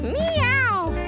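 A cat meows in the video game Mewgenics: a single drawn-out, rising and falling meow lasting about a second, loud and close, with a low hum underneath.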